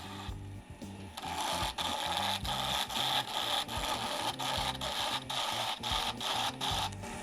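Wood lathe turning a pen blank with a cutting tool peeling off thin shavings, a steady loud scraping and rasping hum with a rhythmic pulsing tone throughout, briefly quieter at the start before the tool engages.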